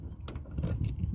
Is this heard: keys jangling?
yes